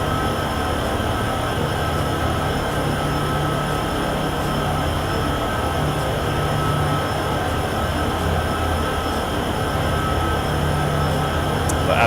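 A freight train running in the video game Train Sim World 6: a steady, continuous rumble of rolling wagons with faint metallic hum and occasional high squeal, even in level and unbroken throughout.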